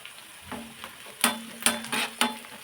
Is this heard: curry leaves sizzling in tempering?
yes